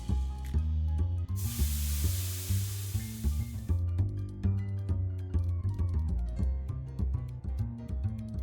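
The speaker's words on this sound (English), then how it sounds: "Invasive plants intends to spray the area with spores, reducing your entire party's stats by 2." Game sound from Shadows over Loathing: a plant enemy's spore spray attack comes as a loud airy hiss lasting about two seconds over a looping plucked, bouncy music track that continues alone afterward.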